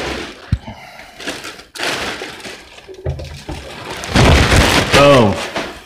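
Plastic packaging rustles and crinkles as a brand-new Electro-Voice Evolve 50 subwoofer is unwrapped, with a sharp tearing burst near the end, under occasional talk close by.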